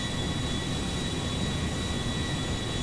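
Boeing 777 jet airliner flying in GTA 5, a steady loud broadband engine roar with a thin constant whine, unbroken and close throughout.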